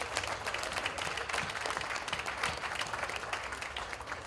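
A crowd at the 2016 West Indian Parade claps steadily for honored guests, a dense, faint wash of many hands sustained throughout without pause.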